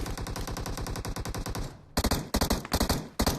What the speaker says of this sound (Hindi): तभी पीछे की तरफ से फायरिंग का साउंड आता था